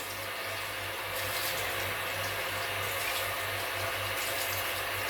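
Steady running tap water pours into a kitchen sink while a plate is washed with a sponge, a continuous close hiss and splash with no clear breaks and no talking.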